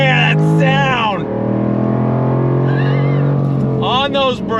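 A 2023 Jaguar F-Type's supercharged V8 revs hard through rising gears, its pitch climbing with each shift, then easing before surging again; a voice shouts briefly over it.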